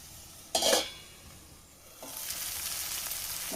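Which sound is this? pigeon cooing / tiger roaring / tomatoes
tomatoes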